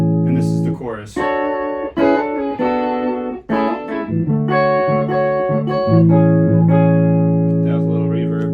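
An electric guitar runs through a pedal that adds a fifth above each note, playing a chorus melody of sustained, ringing notes with reverb and nobody speaking.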